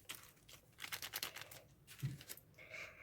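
A paper packet from a handmade paper cosmetics surprise set is opened by hand, with quiet crinkling, soft tearing and rustling in brief bursts close up, and no talking.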